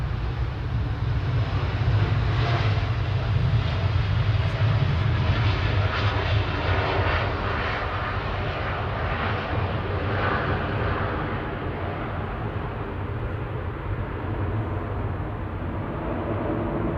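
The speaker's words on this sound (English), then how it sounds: "Heading back to Bahrain now. Gulf Air Flight 4 Delta on its call sign to not confuse everyone. 787-9, it's A9C-FC." A Gulf Air Boeing 787-9 airliner departing Manchester Airport for Bahrain sends out a loud, steady rumbling engine roar that fades gradually as it pulls away, with no voices.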